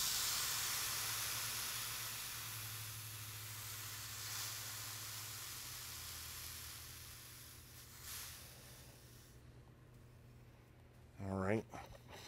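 Steam hisses steadily while a 1903 Springfield rifle is being steamed, a broad continuous hiss that fades gradually, followed near the end by a brief louder mechanical burst.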